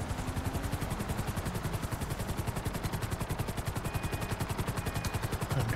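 Sparrow helicopter in GTA 5 Online, rapid rhythmic rotor chop pulsing steadily and evenly throughout, close and continuous with a faint engine whine underneath.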